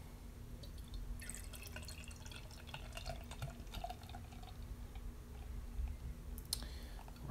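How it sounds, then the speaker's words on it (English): Firestone Walker Velvet Merkin beer is poured from a 12-ounce bottle into a glass, giving soft trickling and dripping with faint clicks, quiet and close against a low steady hum. "we're going to go ahead and give this a pour"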